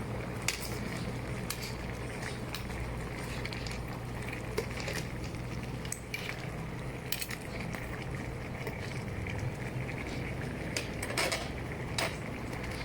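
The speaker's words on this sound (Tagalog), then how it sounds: "Haluin ng haluin hanggang sa matunaw na yung asin" Salt being stirred in a pot until it dissolves, for crab cooked with slippery saluyot. A steady scrape and clink of a spoon against the vessel runs throughout, close and continuous over a low hum.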